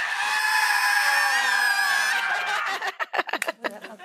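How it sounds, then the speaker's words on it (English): An audience screams as loud as it can with arms raised at an event about legislative advocacy. A sustained, loud, massed scream holds for about two seconds, then breaks into scattered shouts, whoops and laughter. "I want you to scream as loud as possible on three"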